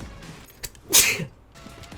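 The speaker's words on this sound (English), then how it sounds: "I sneezed" A single person's sneeze, one sharp close burst with a short intake before it, in an otherwise quiet moment.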